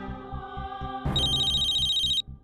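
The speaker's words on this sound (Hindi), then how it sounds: "मेरा फोन बज रहा है" A phone ringing nearby with a bright, repeating electronic ringtone that cuts in over a low background tone, then stops abruptly.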